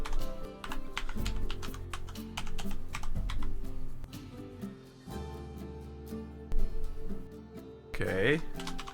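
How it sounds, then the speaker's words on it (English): Rapid typing on a computer keyboard, an uneven run of close, crisp key clicks with short pauses, under someone speaking. "It's telling me I'm typing in an invalid email address."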